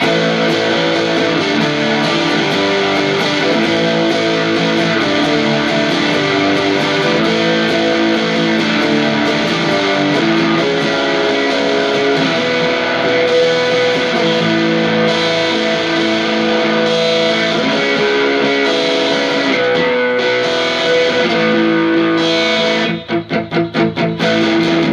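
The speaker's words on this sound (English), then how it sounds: "Getting more distortion and overdrive now" Electric guitar played through a TC Electronic Grand Magus distortion pedal with the gain raised, sustained heavily distorted chords ringing continuously and loudly, ending in a few choppy muted strums.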